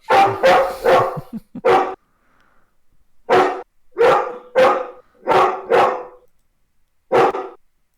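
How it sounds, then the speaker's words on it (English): Dogs bark loudly and close by in a rapid burst of several barks, then pause and bark again in spaced groups, with no talking. "Oh my god. There's doggies."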